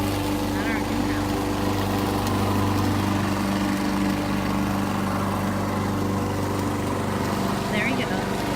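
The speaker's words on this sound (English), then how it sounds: "And this is him mowing the lawn." A lawn mower runs steadily throughout while mowing the lawn at a house, its continuous engine drone holding at a constant level, with a voice faintly present over it.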